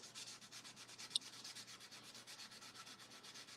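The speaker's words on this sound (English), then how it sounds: "sanding with the lathe off." Steady rhythmic hand sanding of a cast pen blank on a stopped lathe, a dry rasping rub repeating quickly back and forth, close and fairly quiet, with one brief tick partway through.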